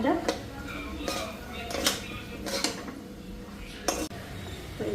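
Metal spoon scraping and clinking against a pan while mixed vegetables are stirred with mayonnaise and paneer, in several short bursts with quieter gaps between.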